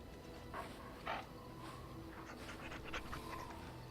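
A dog pants softly in the Dragon Age video game, quick faint breaths in short bursts over a quiet background hum.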